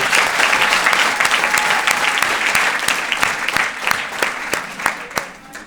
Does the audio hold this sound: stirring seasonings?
no